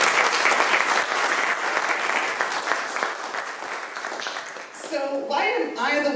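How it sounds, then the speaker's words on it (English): Sustained audience applause at a board welcome toast, a dense, steady wash of many hands clapping that continues throughout, with a person starting to speak near the end. "a round of applause"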